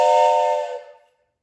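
A toy train whistle gives a single loud, steady harmonic blast lasting under a second, then fades quickly into silence.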